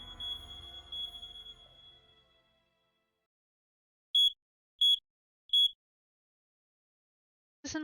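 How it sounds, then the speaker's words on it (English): An alarm gives three short, evenly spaced high-pitched electronic beeps in near silence, following a fading low hum. "It's just an alarm."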